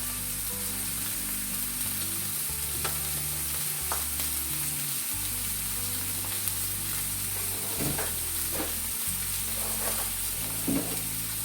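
Steak seasoned with Himalayan salt fries in a hot pan, giving a steady, close, continuous sizzle with scattered pops and spits throughout, with no talking.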